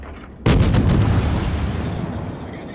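Naval artillery fires in the World of Warships video game: one sudden loud boom, followed by a few quick crackling reports and a long rumbling tail that fades slowly.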